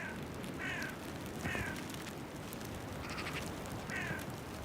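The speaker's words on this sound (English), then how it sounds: "he is usually accompanied by a gang of ravens" Ravens trailing a hunting sea eagle call in several short, hoarse croaks spaced a second or so apart, faint and distant over a steady hiss of wind or surf.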